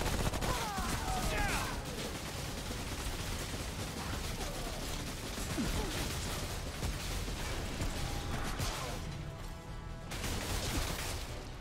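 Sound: gunfire in the video game Remnant: From the Ashes

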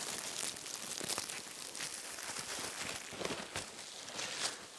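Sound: opening a plastic bag

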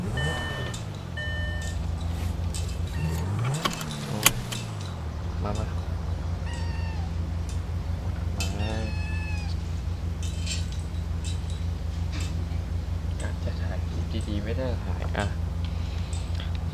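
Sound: cat meowing

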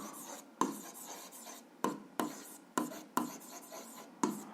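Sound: writing algebra solution by hand

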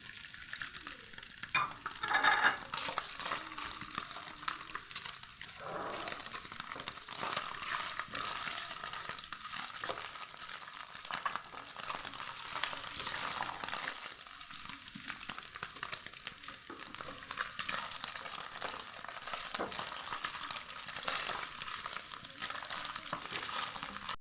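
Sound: paneer pieces frying in hot oil

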